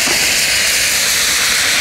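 A consumer firework fountain sprays continuously in a steady, loud, bright hiss that stays unbroken and close for the whole stretch, with no voices audible.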